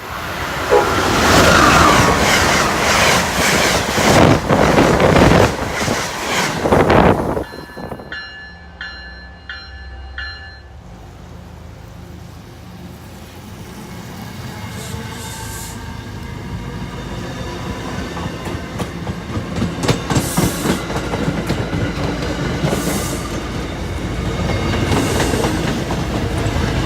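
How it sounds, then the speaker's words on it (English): A train rolls loudly into a station at Canton Junction, its rumble and clatter fading after a high electronic chime tone, then wheels clicking over rail joints build steadily as the cars pass through. "Train approaching."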